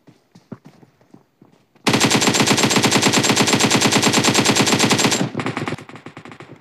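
After some soft taps, a loud sustained burst of rapid automatic gunfire from PUBG Mobile rattles for about three seconds, then trails into quieter shots.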